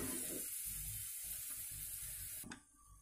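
Cumin, mustard seeds, urad dal and chana dal frying in hot oil, a soft steady sizzle with faint stirring scrapes that fades near the end.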